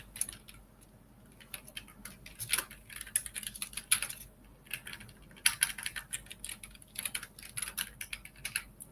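Quick, uneven keystrokes clatter on a computer keyboard for several seconds, with short bursts and pauses, close and moderately loud with no voice.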